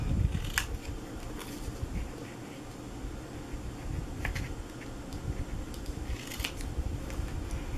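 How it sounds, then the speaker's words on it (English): Scissors snip through a piece of a craft treat box, a few sharp separate cuts spaced a second or two apart over quiet background noise, close up and fairly soft. "And now this piece, we're going to just cut the little top off."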